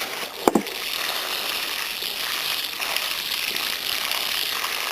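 Water poured from a watering can onto a freshly transplanted lettuce seedling in a small basin of firmed soil in a vegetable garden, a steady close hiss of flowing water after a brief knock.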